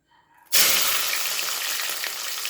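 Onions and green chilies hit hot oil with a sudden loud sizzle, which settles into a steady, close frying hiss that continues on its own.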